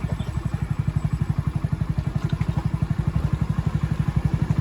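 A motorcycle engine thumps along in a steady, fast pulsing rhythm, with rattles and clatter as it bumps over a rough monsoon-season road near Parth waterfall, Surat.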